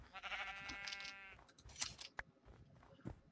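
In Minecraft a sheep gives a drawn-out wavering bleat that is loud and close, followed by a few crisp clipping and crunching sounds as wool is sheared.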